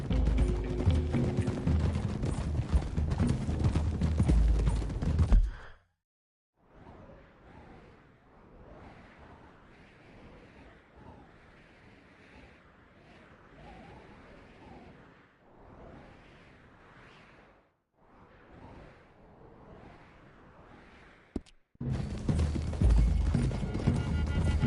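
Horses gallop in Red Dead Redemption 2, a loud rush of hooves at the start, then quieter rhythmic hoofbeats with some neighing through the middle, and a loud burst of galloping again at the end.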